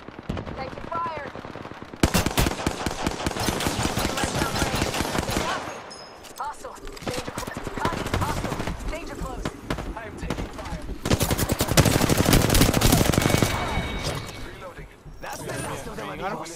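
Loud, sustained machine-gun fire and rapid gunshots in the Apex Legends video game, coming in long bursts separated by short lulls, with voices speaking over the shooting.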